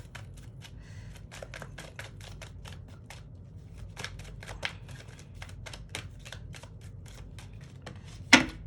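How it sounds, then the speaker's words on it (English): Tarot cards are shuffled by hand in quick riffling bursts, crisp and close, with brief pauses between runs and a sharp tap near the end. "one more shuffle and then we'll get"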